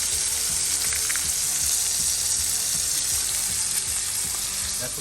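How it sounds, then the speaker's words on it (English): Cornish hens sizzle skin side down in a hot pan, a loud, steady hiss and crackle of frying fat that runs unbroken throughout. "I just want y'all to listen to that sizzle."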